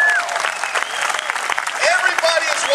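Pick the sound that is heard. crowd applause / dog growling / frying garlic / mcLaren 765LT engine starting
crowd applause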